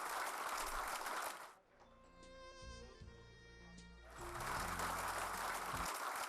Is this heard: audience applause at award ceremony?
yes